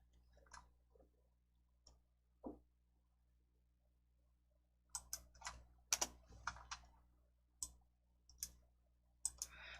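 Sparse, crisp clicks from a computer mouse or keyboard while working in a Hangul document editor, first a few isolated taps, then a quicker cluster of sharp clicks, close and fairly quiet against near silence.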